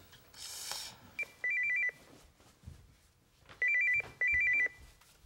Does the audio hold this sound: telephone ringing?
yes